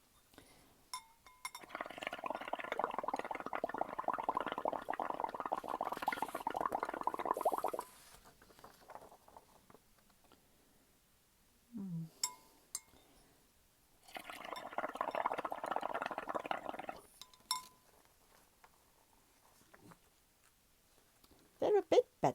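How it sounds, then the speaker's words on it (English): Bubbles blown into coffee mixed with a gloop of washing-up liquid make a steady, close, wet burbling that runs for several seconds, stops, and returns as a second long stretch, with brief small noises in the gap. "blow the bubbles"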